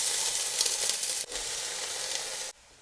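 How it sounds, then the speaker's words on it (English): Two to three tablespoons of oil in a hot pan for chicken noodles produce a loud, steady broadband sizzle that drops abruptly twice, briefly and then to a quieter hiss. "Nice hot pan. I'm going to add 2 to 3 tablespoons of oil."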